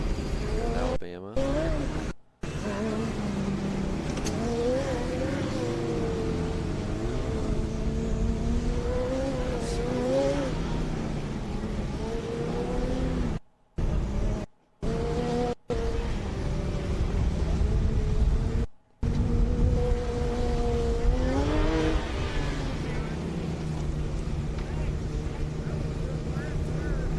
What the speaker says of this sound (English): Dearborn takes off at Autocross